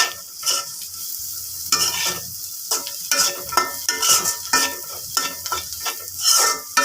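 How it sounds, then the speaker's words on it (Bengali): Chopped onion and green chilies fry with salt and turmeric while a spoon scrapes and stirs the pan, producing bursts of sizzling between repeated metallic scraping strokes, close and fairly loud. "পেঁয়াজ এবং কাঁচামরিচ লাল লাল হয়ে আসা পর্যন্ত ভেজে নেব"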